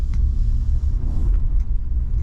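A car drives along a street the day after a snowstorm, a loud steady low rumble of engine and tires heard from inside, with brief faint knocks.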